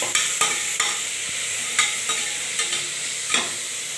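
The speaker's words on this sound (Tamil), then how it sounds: "நல்லா இது வதங்கட்டும்" Ginger garlic paste sautéing in a pan, a soft continuous sizzle broken by repeated sharp scrapes and clinks of a spoon stirring every half second or so.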